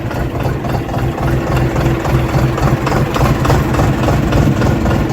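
A Dongfeng DF 244 tractor engine idles steadily at close range, a continuous low diesel rumble with a regular chugging pulse and no voices.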